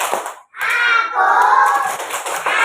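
Schoolchildren clapping together in a classroom chant, a quick patterned burst of hand claps mixed with young voices calling out in rhythm, close and loud.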